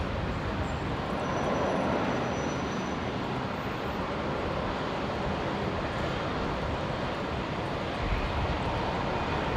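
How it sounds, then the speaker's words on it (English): Qantas Link Dash 8 turboprop arriving on runway 19 right at Brisbane Airport, a steady broad roar of engines and rushing air holding at moderate level, with no talk. "The Dash 8 on screen, Qantas Link 323 Delta just arrived from Bundaberg on the new runway"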